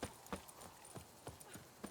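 Geralt's horse Roach in The Witcher 3: Blood and Wine, hooves striking in a steady quick clip-clop rhythm, close and fairly faint, with no talk.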